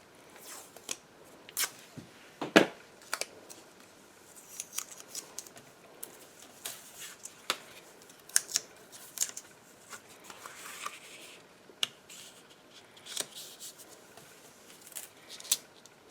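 Tape being pulled and pressed down to hold a brick stencil on a paper craft background, heard as faint, scattered close crinkles, rips and taps with quiet gaps between them.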